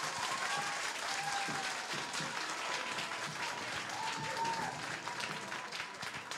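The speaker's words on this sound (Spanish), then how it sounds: "Solo aplausos, recuerden." A drag show crowd applauds without cheering, producing a sustained wash of clapping that holds steady for several seconds, moderately distant, with faint murmuring voices beneath it.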